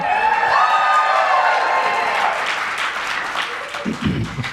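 A live audience in Boise cheers and applauds loudly, a strong wash of clapping and whoops that slowly fades, with a few lower voices calling out near the end.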